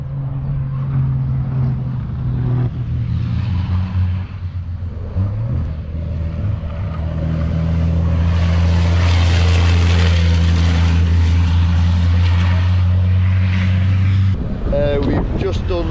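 A racing truck on new tyres during a qualifying simulation at the Most circuit accelerates hard down the start-finish line, its engine note climbing loudly and steadily before an abrupt gear change near the end, with a voice partly over it.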